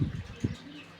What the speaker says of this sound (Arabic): شنو هاي الطيور؟